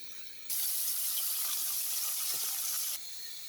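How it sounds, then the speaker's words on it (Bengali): Potatoes frying in hot oil in a pan, a steady loud sizzling hiss that starts abruptly, holds for about two and a half seconds, then drops back to a quieter sizzle. "এভাবে আলুটা ভেজে নিব"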